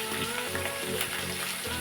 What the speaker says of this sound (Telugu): ఈ పోపు వేగిపోయింది ఉల్లిపాయలు పచ్చిమిరకాయలు కూడా